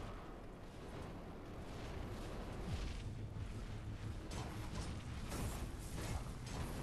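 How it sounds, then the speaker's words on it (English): Dull, rumbling blasts from a fight in The Surge, a continuous roar of combat noise with a few sharper bursts in the later part, with no clear pauses. "Get another explosion in."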